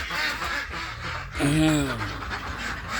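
Yi-Liang ducks crowd a coop during their moult, with a cluster of nasal quacks rising clearly around the middle over a steady background of shuffling and low calls, while a person talks nearby.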